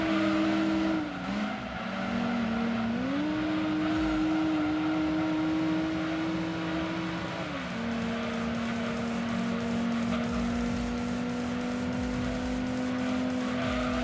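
A Nissan Micra engine revs steadily in Gran Turismo 2, its droning tone rising and dipping with gear changes and throttle, loud and continuous with faint tire noise beneath.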